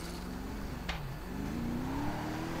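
A Rolls-Royce in a video game, smoking, its engine humming low and steady with a rising tone near the end and one brief whoosh partway through, moderately quiet and with no voices.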